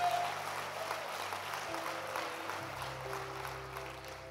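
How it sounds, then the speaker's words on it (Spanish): Applause rises for a church worship service, a steady wash of clapping from the congregation with sustained music tones underneath throughout. "Dele fuerte ese aplauso al Rey de Reyes."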